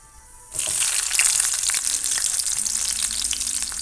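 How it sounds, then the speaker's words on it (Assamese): Onions drop into hot oil with spluttering cumin seeds, setting off a sudden loud sizzling burst after a quiet start that then holds as a steady crackling hiss. "জিৰাকেইটা ধুনীয়াকৈ ফুটি যোৱাত এয়া মই পিঁয়াজ দি দিম।"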